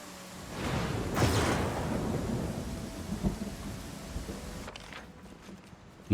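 A rainy thunderstorm in Pathfinder: Kingmaker: thunder rumbles heavily through a steady wash of rain, peaks early, then fades as the rain thins out near the end.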